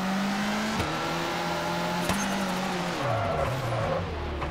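A rally car in a WRC video game drives through a hairpin with a handbrake turn, its engine droning steadily with gear-shift dips and a sharp drop in revs near the end, plus light tyre scrabble.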